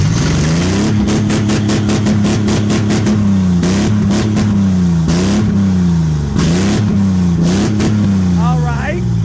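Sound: BMW 740i and Mercedes E320 engines revving, open exhaust

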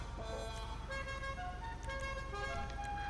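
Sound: car horn honking in a video game

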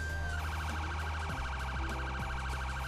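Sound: emergency vehicle siren in video game

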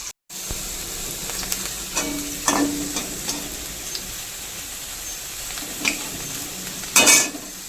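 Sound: pakoras frying in oil

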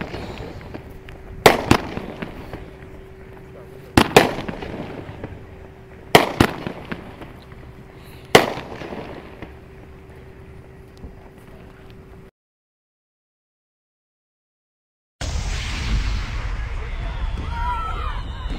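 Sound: fireworks

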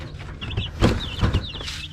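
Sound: Rhode Island Red chickens and chicks clucking

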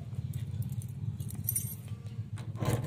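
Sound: keys jangling while unlocking house door

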